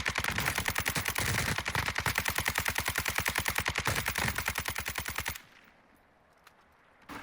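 A machine gun in Warzone 2 fires a long, rapid, evenly spaced burst of loud shots for about five seconds, then stops abruptly, leaving near silence with a faint noise at the end.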